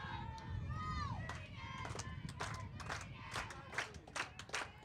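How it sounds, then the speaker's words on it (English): Crowd at a Division I college softball game, Lehigh versus Lafayette, cheering and shouting during a two-strike count, with scattered claps and whistles rising over a steady, fairly distant roar. "The crowd's starting to get into it"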